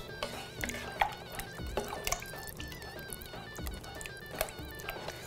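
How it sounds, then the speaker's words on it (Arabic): A turnip stew in tomato sauce comes to a boil in a saucepan, giving soft bubbling and popping over a steady kitchen background hum. "The mixture is coming to a boil."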